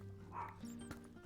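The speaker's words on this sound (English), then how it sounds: "He's barking at like plane noises going by." A pet dog yaps and yips indoors in a short, faint burst that sounds somewhat distant, mixed with a low hum from a nearby room.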